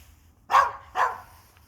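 Two distinct dog barks, evenly spaced about half a second apart, fairly close and clear against a quiet outdoor background.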